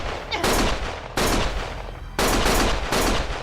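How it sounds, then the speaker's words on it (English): Bursts of automatic gunfire from the video game Lost Judgment, three loud sustained volleys of rapid shots close by, separated by brief pauses, with no talk over them. "Stop shooting!"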